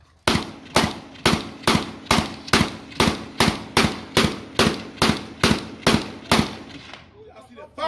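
AK rifles fire at an outdoor shooting range, about fifteen loud, sharp shots in an even, rapid cadence, each with a short echo, then a brief quiet tail.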